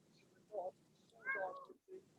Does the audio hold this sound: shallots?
no